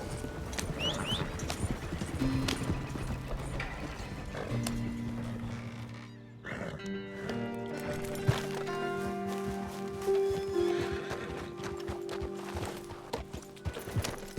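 Horse hooves clip-clopping at speed in Red Dead Redemption 2, with a brief whinny, over a steady bed of game music with sustained tones.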